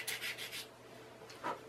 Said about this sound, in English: Just sanding it from one side,